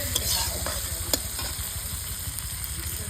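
Chopped tomato with garlic and ginger paste sautés in a pan for a prawn and pointed gourd malai curry, giving a steady close sizzle with a few sharp spatula scrapes and clicks.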